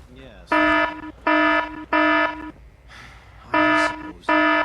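An alarm in Fallout 4 blares in five steady, evenly spaced buzzing tones, loud and close, with game voices talking faintly between the blasts.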